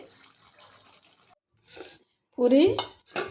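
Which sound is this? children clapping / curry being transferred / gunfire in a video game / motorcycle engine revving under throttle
curry being transferred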